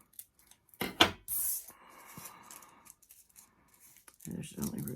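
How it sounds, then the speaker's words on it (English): Scissors snip through a strip of crepe paper in a few quick, close cuts, with light handling noise and some talk around them. "We're going to cut this entire strip."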